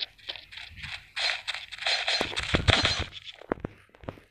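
Sharp gunshot cracks from the online shooter Special Force Group 2 in knives mode, a few loud isolated bangs near the end after a stretch of scraping, shuffling in-game noise.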